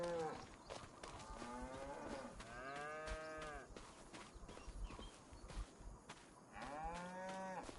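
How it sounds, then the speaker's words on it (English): Cows low and moo repeatedly in a PS5 video game, several drawn-out calls at moderate distance over a steady outdoor ambience with occasional soft thumps. "That's why I hear cows."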